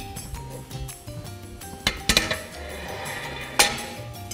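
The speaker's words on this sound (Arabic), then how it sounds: "وننزل صحن السلطة بالوسط" A salad bowl set down on a serving plate, giving a few hard clinks and knocks of dishware against each other amid quieter handling sounds.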